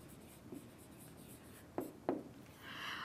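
Writing on a board during a maths lesson, heard as faint scratching with two sharper strokes near the middle, close and quiet in a hushed room, with no talking.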